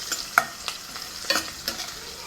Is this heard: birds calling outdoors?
no